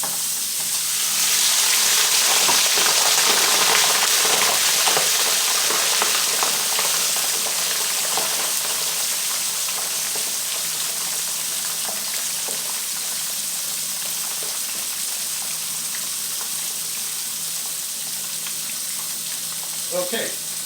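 French fries frying in hot oil give off a steady, loud bubbling sizzle that swells at first, then settles into a constant hiss for about twenty seconds with faint kitchen clatter.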